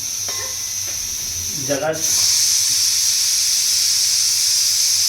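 A household pressure cooker releases steam in a sudden loud, sustained hiss that starts partway through and holds steady to the end, preceded by a short spoken word and faint background noise.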